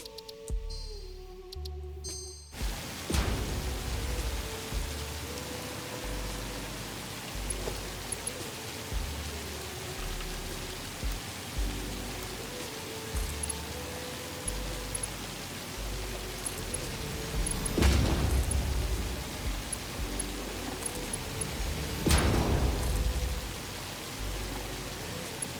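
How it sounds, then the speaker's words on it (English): Heavy rain falls over the desert in the video game Satisfactory as a steady, loud, roaring hiss, with a few brief surges and faint low tones underneath throughout. "I guess we're getting occasional rain. It's just very loud."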